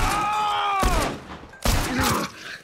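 Gunfire erupts in The Last of Us, a burst of loud shots cut by a sudden silence, then a second heavy volley, with groaning game sounds and a faint music tone running beneath.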